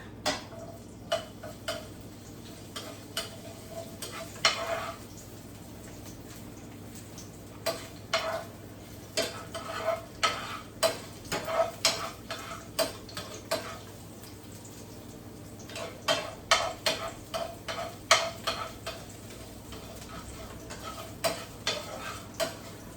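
Garlic frying in hot oil, a faint, steady sizzle with frequent small crackles and ticking pops spread across the whole stretch, close but quiet, no talking.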